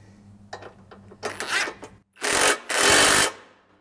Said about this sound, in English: Now with all those bolts in place, we can tighten everything up.